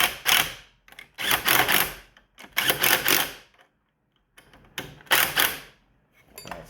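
A transducer fitting on a Graco paint sprayer is tightened by hand, giving repeated bursts of close mechanical scraping and threading noise separated by short pauses.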